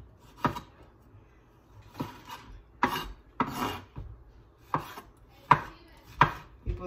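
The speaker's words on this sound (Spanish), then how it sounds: "aquí estamos picando el tomate. También en puras rueditas." A knife chops a tomato into round slices on a cutting board in a home kitchen, seven or eight distinct thuds at an uneven pace, close and fairly quiet.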